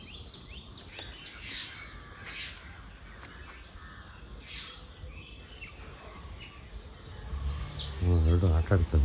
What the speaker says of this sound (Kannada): ಇಲ್ಲಿ ನಮ್ಮ ಮನೆ ಅಂಗಳದಲ್ಲೇ ಆಡ್ತಾಯಿದೆ ಪಕ್ಷಿಗಳು.